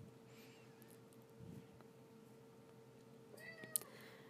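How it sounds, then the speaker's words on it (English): Faint, distant meows from a cat in a quiet house during cleaning of the kitchen and living room, two or three short calls near the end over low room noise. "There's a cat in the background as I'm recording this, of course."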